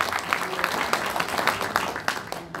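Clapping fills a hall at a city football association's inauguration ceremony after an appointment is read out, a moderate burst of many hands with audible individual claps.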